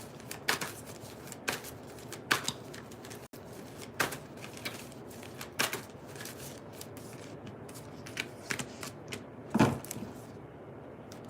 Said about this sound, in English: Give me 3 cards for Miss Yvette.